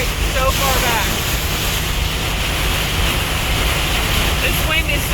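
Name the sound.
strong wind during Florida storm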